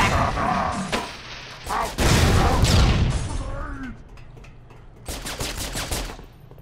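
Rapid bursts of gunfire from the video game Halo 3 ODST, loud repeated volleys with crashing impacts, starting and stopping in clusters over a few seconds with some voice mixed in.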